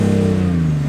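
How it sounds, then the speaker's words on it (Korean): Deep, steady exhaust drone from a BMW X6 30d diesel in sport mode, a low, heavy hum held at an even level for a brief moment, close and loud with no talking. "약간 더 저음이 약간 중후한 느낌이 나는 스포츠 모드"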